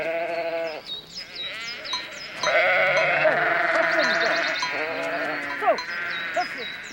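A flock of sheep led by a dominant ram bleats repeatedly, the wavering calls overlapping at close range in a steady chorus, with no talking.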